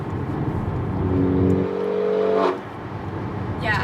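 A fast sleeper car putting about 331 horsepower and 375 torque to the wheels drives by with a close engine roar that climbs in pitch, then drops away abruptly, leaving lower road and engine noise.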